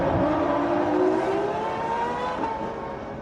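A 1999 Formula 1 race car engine during an overtaking move, a loud, steady high-pitched wail with slight pitch shifts, heard close throughout without talk.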